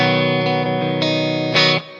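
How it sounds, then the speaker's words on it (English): A sustained electric guitar chord, clean tone through a mild hall reverb pedal, rings with spacious reverb, a few restruck notes swelling briefly before the tail fades. "And then I also have a sort of hall reverb. Kind of a mild, normal reverb."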